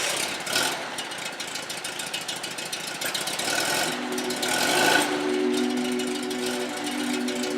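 A 1964 Porsche 356 engine runs at a steady idle, a continuous mid-loud rumble with a slight surge partway through and no voices.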